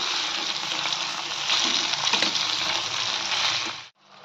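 Vegetables for sambhar sizzle in a hot pot while being stirred, a steady loud frying hiss with faint scraping, ending abruptly in silence.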